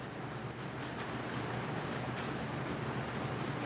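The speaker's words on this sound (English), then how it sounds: "Y'all see how that rain coming in?" Rain comes in steadily, a constant even hiss of falling drops that continues without a break and with no voices over it.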